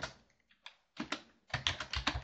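Fingers tap on a computer keyboard in close, crisp clicks: a few scattered keystrokes, a brief pause, then a faster run of typing, with no voices.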